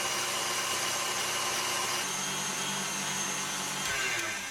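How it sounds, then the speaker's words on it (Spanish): Electric mixer whipping lemon pie meringue at maximum speed, a steady loud whirring drone that holds evenly throughout with no talk. "Y luego se baten hasta enfriar a velocidad máxima."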